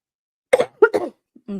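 A few short coughs in quick succession, close to the microphone, followed by a brief soft breath.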